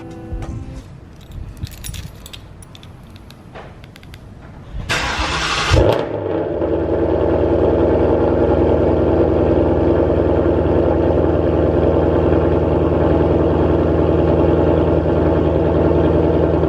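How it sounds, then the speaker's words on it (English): A 2019 Ford Mustang GT fitted with a JLT intake starts after a jingle of keys, then its V8 settles into a loud, steady rumble close by, driving at low speed while warming up. "Right now we're just kind of driving around a little bit, letting the car get nice and warm"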